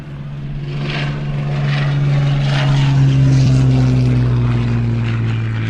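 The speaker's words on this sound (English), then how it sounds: "This is an example of the ultimate in Wildcat variants, the FM2." Grumman FM2 Wildcat propeller fighter flying past, its piston engine drone loud and close with a steady low hum and rhythmic propeller pulsing that swells toward the middle.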